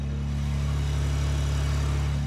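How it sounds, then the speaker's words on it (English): A 2021 BMW G80 M3 with accident damage idles steadily close by, a deep, even engine hum with a faint ticking texture running unbroken and loud throughout. "You guys hear that? Motor runs perfect."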